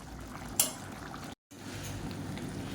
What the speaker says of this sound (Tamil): நல்லா இந்த மாதிரி ஹை ஃப்ளேமில் வச்சு நல்லா கிளறி கிளறி விட்டு வற்ற விட்டுக்கலாம்